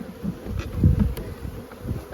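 Honeybees hum at an opened hive on a cold day, a low, wavering buzz that swells and fades as individual bees pass near.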